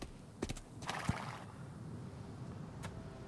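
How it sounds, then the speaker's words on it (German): A horse in the Egyptian desert world of Assassin's Creed Origins gives a short whinny and a few hoof clops amid steady ambient game noise, moderately near. "Das ist kein Pferd von uns, aber egal."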